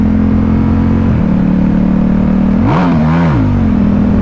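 A Ducati Diavel 1260 fitted with a Healtech quick shifter pulls hard under steady throttle, engine drone rising, then a quick shift dip and climb, loud with heavy wind rush throughout.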